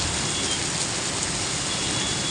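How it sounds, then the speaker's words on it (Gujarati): Heavy rain pours down in a loud, unbroken roar, dense and constant from start to finish. "એક ભેગો ભેગો એકી હારે વરસાદ વધી ગયો જાણે આભ ફાટ્યું હોય"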